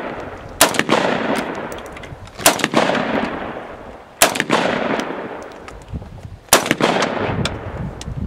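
Four loud AR15 rifle gunshots outdoors, spaced about two seconds apart, each a sharp crack followed by a long rolling echo, with no voices.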